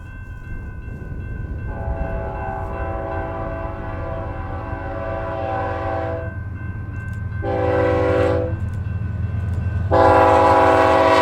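Norfolk Southern locomotive NS 1069 passes a rural Kansas crossing. A steady low engine rumble runs throughout while a chorded horn sounds one long blast followed by two shorter ones, growing louder as the train nears.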